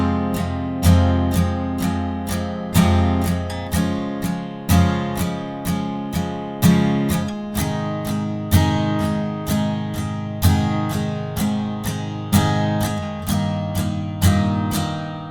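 Acoustic guitar strums the verse chords of a song in steady groups of four down strums, each stroke a crisp, evenly spaced attack ringing out alone and close for about fifteen seconds.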